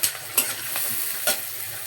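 Onions frying in hot oil and being stirred, a steady close sizzle with a few sharp scrapes of a spatula against the pan.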